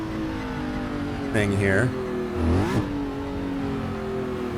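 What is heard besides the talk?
sports car engine revving in Assetto Corsa video game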